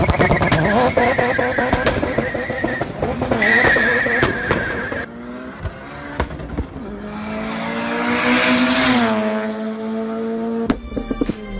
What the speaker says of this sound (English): this Miata with the original engine, which has been modified to pump out 600 horsepower